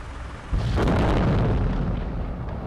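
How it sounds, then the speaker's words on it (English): A TOS-1A thermobaric rocket launcher is blown up by an FPV drone in a war zone, a sudden loud explosion bursting in and then rumbling on as a sustained roar, no speech. "resulting in a massive explosion."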